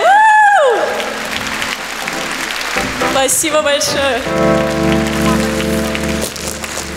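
An audience at a live music show breaks into applause that rises after a sung note fades, the clapping mixing with a speaking voice and sustained instrumental chords that enter partway through.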